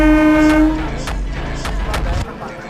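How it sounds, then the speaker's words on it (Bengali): A train standing at a station, its horn sounding loud and close with a long steady tone that fades, followed by low rumbling engine noise and short clanks. "দেখলে একজনের জন্য ট্রেন দাঁড়িয়ে গেল।"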